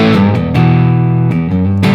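A Strat-style electric guitar played through distortion gives a growly, buzzy tone, with a few sustained notes and quick pitch changes between them, loud and alone.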